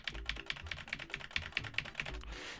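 Clicky computer keyboard typing up close, a quick irregular run of sharp keystrokes ending with a soft rustle, quiet and without speech.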